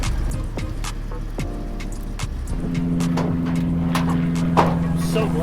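A boat engine at Whiskey Creek in Dania Beach, Florida, cranks and catches, then settles into a steady idling drone, preceded by a few clicks and sputters, with some wind noise.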